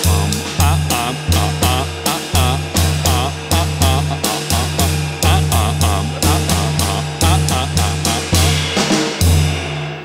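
Drum phrase grouped in odd time signatures, loud punchy hits with a bass tone in irregular clusters repeating across the passage, played alone without talk.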